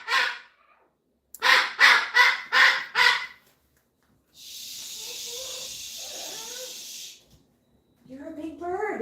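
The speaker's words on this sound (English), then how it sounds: "You're a big bird, and you're a noisy bird" A run of five loud, harsh squawks from a bird in quick succession, then a long hissing noise, and a voice begins at the end.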